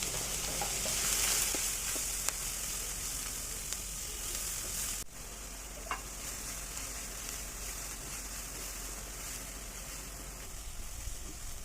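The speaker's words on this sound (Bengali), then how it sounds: "চিকেন আর পেঁয়াজ কুচি ভেজে নিয়ে" Chicken pieces and chopped onion fry in a pan with a steady, close sizzle and occasional stirring clicks, growing slightly quieter midway through, with no talk.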